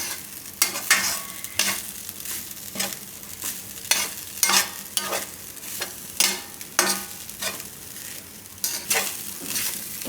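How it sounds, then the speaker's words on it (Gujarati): Cooked rice for thecha rice is stirred and mixed in a hot pan, with a soft sizzle punctuated by about a dozen sharp, close scraping strokes in an uneven rhythm and no one talking. "તો આ રીતે એકદમ મિક્સ કરી લેવાનું"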